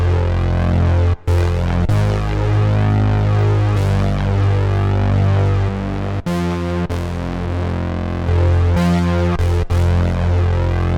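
Thick synth bass doubled through a chorus effect drives a steady, dense groove with heavy low end, broken by a few sharp momentary dropouts; loud and continuous, no voices.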